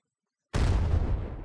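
A bomb going off in a simulation activity gives a sudden loud, close blast after a moment of silence, with a heavy low rumble that stays strong to the end.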